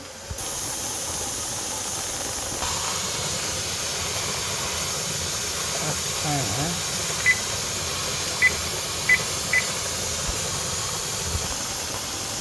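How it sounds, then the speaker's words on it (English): A pressure canner holding grouse in bruschetta sauce vents a steady, loud hiss of steam that runs unbroken throughout, with a few short electronic beeps near the end. "You need that steady stream of steam happening"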